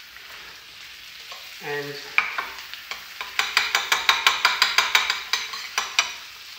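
A fish fillet frying in butter in a pan, with a steady sizzle and a rapid series of rhythmic spoon scrapes and splashes as hot butter is basted over it, loud and close.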